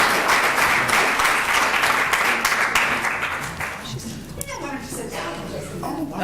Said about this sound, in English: I would like us to give a round of applause to the candidates